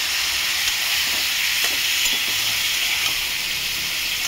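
Spices frying with a splash of water in a pan over a lowered gas flame, a steady loud hiss and sizzle with faint scraping of stirring underneath, no voices.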